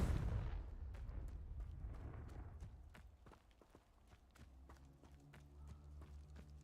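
A Confringo fire spell goes off in the Harry Potter game Hogwarts Legacy, opening with a loud rumbling blast that decays into a string of sharp clicks and footsteps, with a faint low hum underneath.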